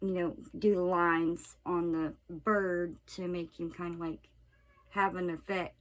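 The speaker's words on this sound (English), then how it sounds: "That's my cat. He's deciding he wants to crash our recording session." A pet cat meows repeatedly close by, a series of loud, drawn-out, rising and falling cries between short pauses, with a person speaking briefly among them.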